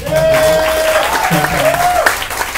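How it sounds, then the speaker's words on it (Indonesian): Open mic comedy audience claps after a comedian's set, a short burst of applause heard alongside voices and a sustained tone. "Jadi tolong beri tepuk tangan untuk usaha saya."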